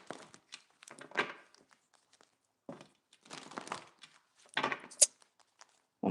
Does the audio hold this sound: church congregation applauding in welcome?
no